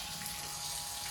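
Water being splashed onto a floor for cleaning. A steady, hissing rush of water sounds close and loud, with no talk.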